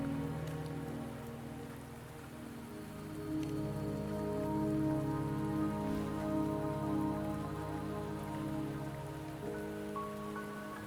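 Steady rain falling in the Wuthering Waves video game on the way to Mount Firmament, a constant dense patter under a layered musical drone, with no voices.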